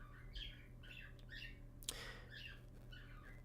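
Pet birds indoors give repeated faint chirps and squawks in short bursts, with one sharper call midway, against a quiet room background.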